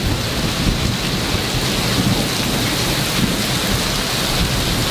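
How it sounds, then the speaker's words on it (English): Heavy rain pours in a loud, dense, steady wash during a thunderstorm, with deep thunder rumbling underneath, no voices. "Look at that storm."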